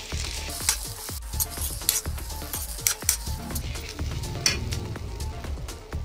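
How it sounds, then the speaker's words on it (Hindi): Mashed potatoes with onion and green chili being stir-fried in a pan for bread pakora filling, close sizzling under busy, repeated scraping and clinking of a metal spoon. "आलू को बढ़िया से भून लेंगे।"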